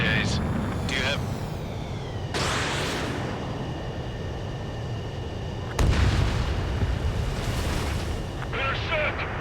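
Heavy anti-aircraft guns firing in the combat flight game Ace Combat 7, dense booming bursts rumbling over a constant roar of wind and engine, with loud cracks at intervals.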